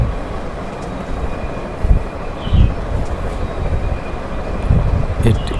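A red train runs on an elevated track above a tree garden, with a loud continuous rolling rumble and rattling wheel clatter. Several heavier clunks and a brief high squeal stand out near the end.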